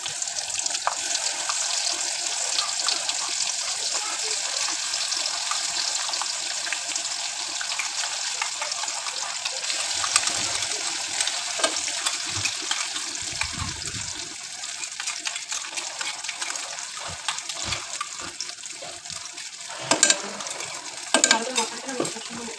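Ground spice paste for mutton curry hits hot oil in a pan with a loud, steady wash of sizzling that runs unbroken throughout, with occasional scraping bumps toward the end.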